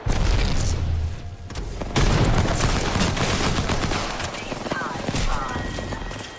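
Gunfire in the Apex Legends video game, dense bursts of shots and booms running continuously at close range over a loud, busy mix of game effects.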